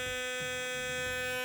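A Philips Sonicare DiamondClean 9000 electric toothbrush runs with a steady, high-pitched electric hum and faint buzzing overtones, heard close up throughout a short stretch.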